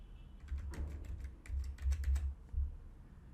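A computer keyboard is tapped as a PIN is entered, a short run of quick, close keystrokes in an uneven rhythm that is quiet and heard alone.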